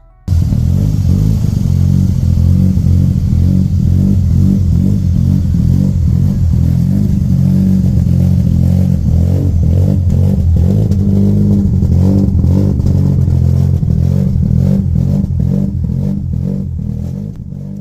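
A Mazda RX8 with a bridge-ported rotary engine runs loud and close, a choppy, lumpy idle and brapping revs pulsing steadily throughout with no talk.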